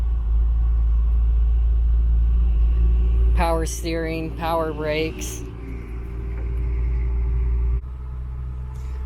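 A 1955 Chevrolet Bel Air sport coupe idles after start-up with a deep steady rumble, close and loud, while someone talks over it partway through.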